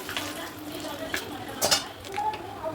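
A bay leaf is dropped into hot oil left over from frying fish heads and sizzles with a light steady crackle, close up. Brief utensil clinks and stirring scrapes come through, with a voice speaking faintly now and then.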